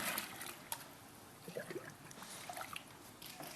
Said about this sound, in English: Let's just stir that up a little bit.